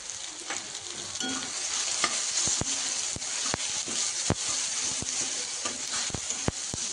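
Upma mixture with turmeric frying in a pan, a constant bright sizzle punctuated by frequent sharp spoon taps and scrapes against the metal, close and steady.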